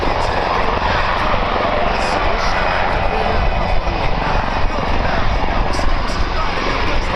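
A French Airbus H225 Caracal military helicopter during a tactical demonstration at Orleans, its loud, steady rotor and turbine roar filling the scene continuously and close by, with no pauses.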